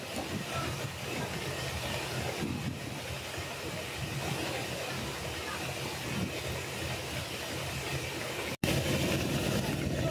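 A train on the Padma Rail Link in southern Bangladesh rumbles along with a steady, dense roar and hiss heard from onboard, continuous throughout with a brief dropout near the end.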